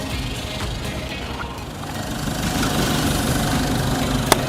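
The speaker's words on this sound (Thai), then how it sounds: "ได้ยินเสียงรถด้วยเนาะ" An Isuzu D-Max Blue Power 1.9 diesel pickup engine idles steadily with a low, even rumble and faint mechanical rattle, close by, with a brief sharp tick near the end.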